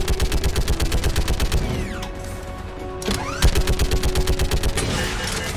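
A heavy weapon fires rapid, loud bursts in the sci-fi shooter Mass Effect 3. The steady automatic fire pauses briefly mid-way, then resumes in close, punchy rhythmic volleys.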